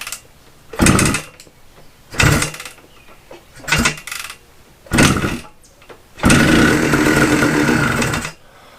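Suzuki TS185 two-stroke motorcycle engine, freshly rebuilt and fitted with a homemade muffler, being kicked over in several short loud bursts before it catches and runs steadily for a couple of seconds, then cuts off.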